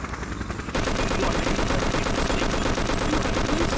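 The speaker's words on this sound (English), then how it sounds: "Thankfully that chopper is super bad shot." A helicopter in the Just Cause video game fires a long, unbroken machine-gun burst that starts abruptly after a brief quieter moment and stays loud and dense to the end.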